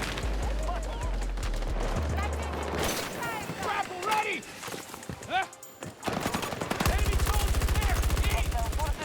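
Rapid automatic gunfire from a video game firefight, bursts of loud close shots with a dense sustained stretch at the end, mixed with players talking over the shooting.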